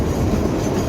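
The Kalka-Shimla mini train runs through snowy hill country with a steady, dense rumble and rattle of wheels and carriages, loud and close, with no voices.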